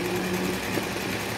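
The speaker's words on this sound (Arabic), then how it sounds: "دابا غادي نبدا ندخل هاد الالوان هادو مع بعضياتهم بالخياطه" A sewing machine stitches embroidery, blending colours with thread, in a continuous close mechanical whir with a steady fast rhythm and no speech.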